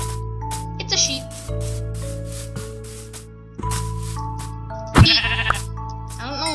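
Sheep bleating in a survival-crafting video game, a few wavering bleats standing out over steady game music and ambient tones, with a louder burst of game sound effects near the end.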